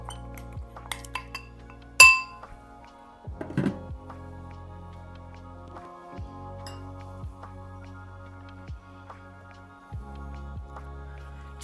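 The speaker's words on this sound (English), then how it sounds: "we're going to mix this into the melted butter" Sugar and cinnamon being stirred into melted butter in a bowl, with sparse clinks and taps of a utensil against the bowl, one sharper knock early then soft, irregular scrapes and ticks, close and quiet without talk.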